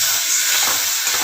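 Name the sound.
spice water poured into hot pan, sizzling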